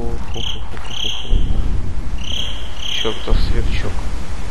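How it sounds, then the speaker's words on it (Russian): A cricket in the horror game Slender: The Arrival chirps in short repeated bursts, loud and close, over a rumbling dark background. "Чёртов сверчок."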